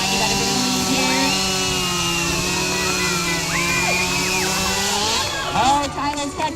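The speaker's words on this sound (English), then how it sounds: "grab their chainsaw started, make one complete cut" A chainsaw at a timber sports contest cuts through a log block, its engine droning loud and steady with rising and falling revs, while an announcer talks over it and the crowd stirs near the end.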